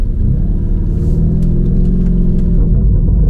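Deep, loud rumble of a Lamborghini Urus engine fitted with a Milltek full exhaust, a steady close-up idle and light rev held for a few seconds with no talking.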